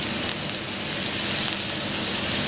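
Fish frying in a pan in olive oil, part of a Peruvian-style fish dish with garlic, coriander and thyme, gives a steady, dense sizzle that holds evenly and fairly loud throughout, with no talking.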